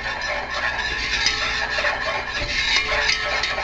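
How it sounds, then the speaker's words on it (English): Butter and flour stirred in a hot pot for a cheesy chicken and veggie soup, with steady close scraping and clinking of a utensil against the pot over a constant sizzle. "And I'm going to give that a stir."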